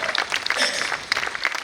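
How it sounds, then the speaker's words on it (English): An audience at a Quelbe music presentation breaks into brief, dense applause, many hands clapping at once in a steady, fairly loud patter. "Please a round of applause for Stanley."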